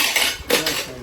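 Metal dishes and pots clink and clatter against each other, a few sharp knocks among a continuous jangle, fairly close.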